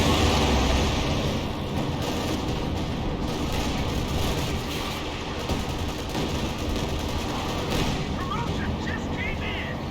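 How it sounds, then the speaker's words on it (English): A Soviet strafing run in Company of Heroes 2 roars as sustained, dense gunfire and rumbling blasts across a chaotic battlefield, continuing under people talking. "No, it's a strafing run. Soviet strafing run."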